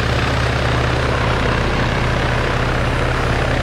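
A helicopter in ARMA 3 drones with loud, steady rotor thumping and a whining turbine, heard close, continuous and alone.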